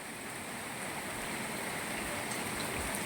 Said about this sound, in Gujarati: ધીમો ધીમો મસ્ત વરસાદ ચાલુ થઈ ગયો છે